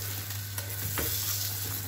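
Maccheroni with hamburger ragù are stirred in a pan over a faint, steady sizzle, with a couple of soft scraping strokes, quiet and close with no voices.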